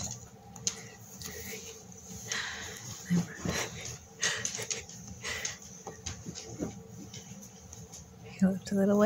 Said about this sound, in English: There's our lovely dog helper.